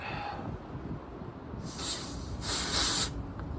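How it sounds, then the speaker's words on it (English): Air hissing out of a refrigerant charging hose being purged on a Fujitsu ductless mini-split heat pump: two short bursts of sharp close spray, the second longer, over low background noise. "Let's flip this upside down and purge the air out of the charging hose."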